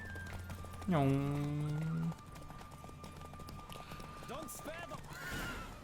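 Rhythmic clip-clop of a horse galloping during a race in The Witcher 3, with a horse whinny and a voice over the hoofbeats.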